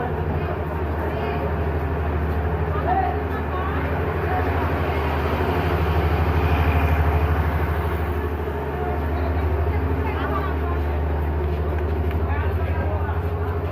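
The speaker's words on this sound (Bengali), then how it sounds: "এই কর্ণফুলী কমিউটার ট্রেনটি আখাউড়া রেল স্টেশনে প্রবেশ করেছে।" The Karnaphuli Commuter train, running the Chittagong–Dhaka route, rolls into Akhaura railway station with a steady, heavy low rumble that swells and eases, with a voice speaking over it.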